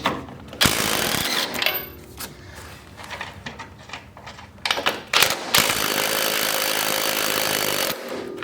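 Ratchet or power tool taking out 18mm strut nuts on a Jeep WK during a lift install, loud bursts of rapid mechanical whirring and clicking with short pauses between them, close by.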